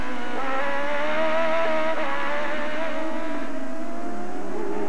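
A 1997 Trois-Rivières Grand Prix race car engine screams at high revs, pitch dipping briefly as it shifts gears before climbing again, loud and continuous.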